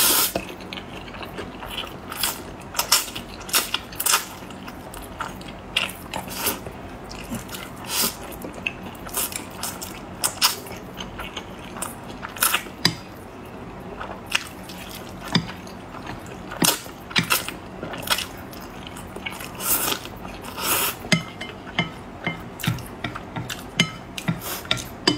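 Close, wet slurping and crisp chewing of hot dry noodles (Wuhan re gan mian), repeated bites and sucks in an irregular rhythm, loud and intimate with no talk.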